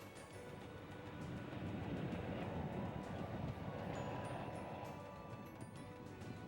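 A Wyoming Colorado Railroad train rolls along straight track toward Laramie, Wyoming, a faint, steady low rumble that swells slightly in the middle, with no voices.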